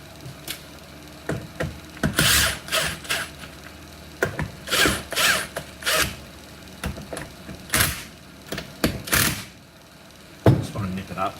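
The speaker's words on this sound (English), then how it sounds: "Grab it, flip it, and put a couple of bolts in." Bolts being fitted and tightened on a Lokka locker for a Toyota LandCruiser 76 series, with repeated short ratchet clicking bursts and clinking metal handling, close and in irregular spurts.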